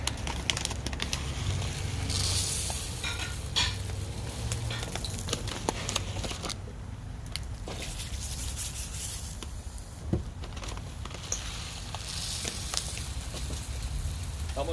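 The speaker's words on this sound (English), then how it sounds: "we're going to stir it real good and let it all absorb" A spoon stirs rice with pork chops, apples and onion in a skillet, making continuous close scraping and rubbing with faint bubbling and scattered clicks, no voices.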